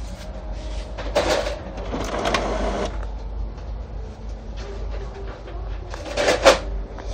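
A Samsung SL-J1560 inkjet multifunction printer with an ink tank system feeds paper, giving two bursts of whirring, clattering mechanical noise over a steady low indoor hum.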